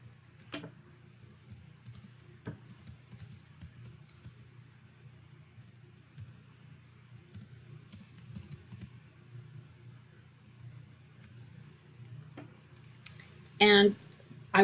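Sparse, faint keystroke clicks from typing on a computer keyboard sit over a steady low room hum, with a short, louder clatter of keys near the end.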